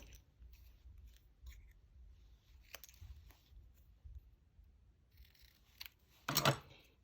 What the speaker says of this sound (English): Use your scissors to trim off the excess.